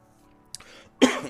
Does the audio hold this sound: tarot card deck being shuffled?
no